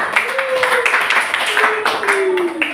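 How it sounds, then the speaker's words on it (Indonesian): A classroom applauds a student group, with scattered clapping from many hands running underneath voices that talk over it throughout. "kita berikan tepuk tangan kepada kelompok 1"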